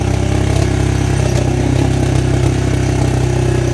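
A motorcycle engine runs loud and close at a steady idle. It throbs with an even, rumbling pulse and a mechanical clatter, with no voices over it.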